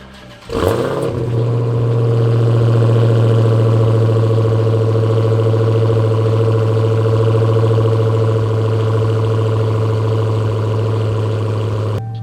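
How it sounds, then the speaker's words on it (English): A V8 engine fires up close by, then settles into a loud, deep, rumbling idle with a lumpy, throbbing exhaust note that holds steady. "let's go ahead and get a startup on it, so that way you guys can just hear the exhaust"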